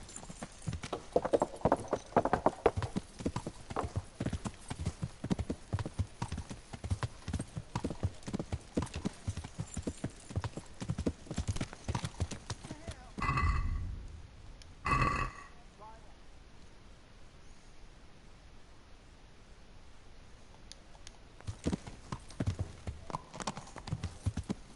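Horse hooves clip-clopping in the medieval role-playing game Kingdom Come: Deliverance, a steady rapid rhythm of hoofbeats under intermittent talk, briefly broken by a thud and a pause before the quieter gait resumes.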